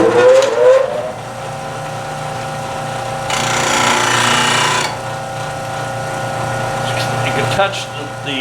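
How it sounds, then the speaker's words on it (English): A bench grinder spins up and the tip of a woodturning skew chisel touches the wheel for a brief, harsh grinding burst over the steady motor drone. Someone talks near the start. "I'm going to turn the grinder on, and I'm going to just touch this for a second."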